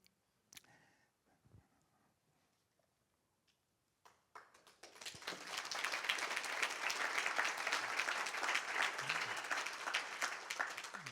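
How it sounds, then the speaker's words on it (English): Audience applause at a business summit: after a few seconds of near-quiet with scattered small sounds, dense clapping from a large crowd swells in and holds steady and loud to the end. "That applause is for my wife"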